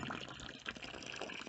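Water runs from a hose into a small dug ditch for a water line beside a barn on dry ground, a faint steady splashing gush with bubbling, close by and alone.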